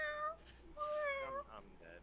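A person's voice imitates a kitten's meow: several short, high, wavering mews in a row, close and fairly quiet.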